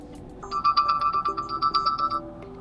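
A ringtone-style alarm tone previewed on a MEIZU mBlu 21 smartphone, a bright repeating melodic pattern of short electronic notes that plays for about two seconds, clear and close with no talk.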